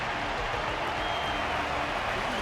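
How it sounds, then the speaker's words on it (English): In-game crowd applause in Honkai: Star Rail, a dense, steady wash of clapping from a large audience that holds at an even, full loudness from start to finish. "Their constant applause is a salute to this resilient Belabogian fighter."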